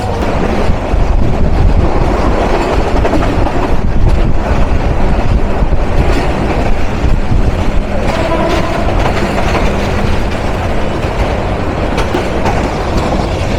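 The Lalmoni Express rumbles along the rails at night, with loud continuous wheel roar, rattling carriages and wind noise filling the whole stretch.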